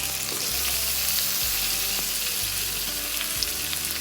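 Potatoes frying with cumin seeds and turmeric powder in hot oil, a loud, continuous close sizzle with a steady crackle that holds evenly for the whole stretch.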